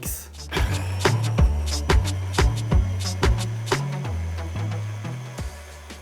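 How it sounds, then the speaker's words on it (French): A food processor whirs as it blends crumbled shortbread and speculoos biscuits into powder, a steady motor drone broken by a series of short rhythmic pulses and knocks, close and fairly loud, with no talking. "Et on mixe."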